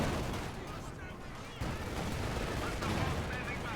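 Battle gunfire from the real-time strategy game Company of Heroes 2 crackles in dense, continuous volleys. Heavy bursts and rumbling blasts come in layers, with talk running over them.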